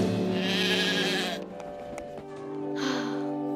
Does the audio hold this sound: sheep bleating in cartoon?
yes